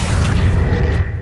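An Accio spell cast in Hogwarts Legacy lands as a single short, loud magical whoosh with a booming low-end burst that fades quickly.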